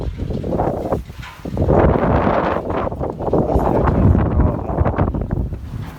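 Strong wind blows across the microphone in loud, gusting surges over a soybean field, a constant low buffeting roar with no one speaking.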